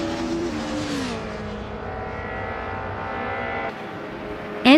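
Race cars in a racing video game hold a steady engine drone with gear shifts and rising revs, then a sharp loud screech of engine or tires bursts in at the very end.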